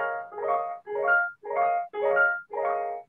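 Piano playback from Finale notation software with both hands' notes sounding at once, giving five evenly spaced, identical chord strikes in a steady rhythm.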